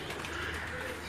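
Pigeons coo softly in a brief, low burble against faint background noise.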